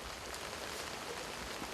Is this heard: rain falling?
yes